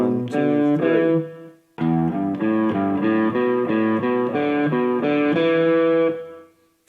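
Distorted electric guitar plays a scale in repeating three-note groups, a short phrase, a brief pause, then a steady run of evenly spaced notes, loud and close with no voice.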